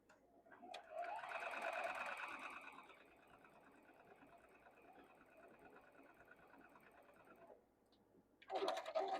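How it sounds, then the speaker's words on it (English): A sewing machine stitches quilt block pieces for a modern quilt, with a steady whirring run of several seconds that starts loud and settles to a constant hum before stopping, followed by a brief burst of handling noise. "Now we'll sew this one on this side."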